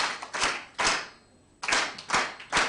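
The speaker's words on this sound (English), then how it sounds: "So we are going to clap 1, 2, 3, okay?" A small group claps together in unison on a count, giving several sharp bursts of hand claps with a short pause between them, fairly close and with no talk over it.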